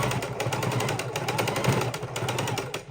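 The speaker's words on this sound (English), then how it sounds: "I'm double sewing the corners because these get a lot of use" A sewing machine runs in a fast, even stitching rhythm, double-sewing the corners of a fabric bowl, close and steady before slowing to a stop at the end, with no voices.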